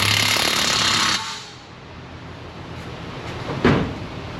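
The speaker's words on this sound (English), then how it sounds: "we'll tighten the nut" An impact wrench tightens a suspension nut on a BMW 328i during a post-collision suspension repair, giving a loud, dense burst of hammering for just over a second, then stopping, followed by a faint clunk in a quiet workshop.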